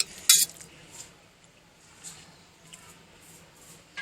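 Bottle gourd raita being served into a dish, one bright clink of a spoon against the dish followed by faint scattered taps and scrapes in a quiet room.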